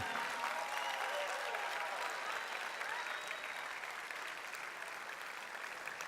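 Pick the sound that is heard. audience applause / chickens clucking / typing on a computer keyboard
audience applause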